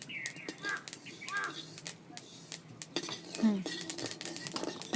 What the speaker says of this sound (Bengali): এবার মুড়ির মধ্যে ঢেলে দেবে।